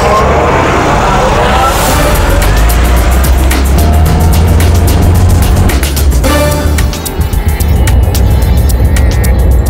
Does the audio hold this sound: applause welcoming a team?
no